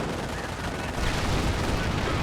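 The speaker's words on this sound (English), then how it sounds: "looks like a landmine was detonated there, as well as there" Explosions and gunfire in a Company of Heroes 1 match, a landmine detonating amid dense rattling battle noise that swells louder after the first second and stays loud throughout.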